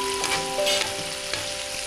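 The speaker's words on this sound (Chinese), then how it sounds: "105公克重的肉片在煎台上滋滋作响" Slices of 105-gram burger meat sizzle loudly on a hot griddle in a steady close frying hiss, with occasional scraping and no voices.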